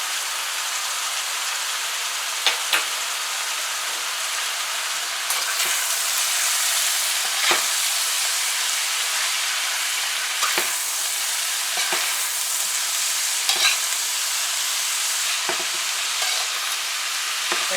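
Pak choi stirred and fried in a pan, a continuous soft sizzle broken by scattered scraping clicks of the spoon at irregular intervals, with no talk.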